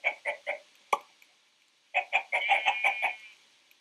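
Video game chicken clucking in short, bright bursts: three quick clucks, a single sharp note, then a rapid run of about eight clucks, all close and alone.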